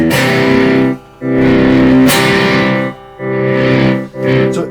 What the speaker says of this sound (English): Yeah, I'll put some distortion on.